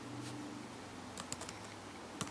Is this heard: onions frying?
no